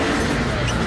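Two cars drifting around London's Piccadilly Circus in front of about 400 spectators during a Fast and Furious 6 film shoot: a brief, loud, steady roar of engines close by.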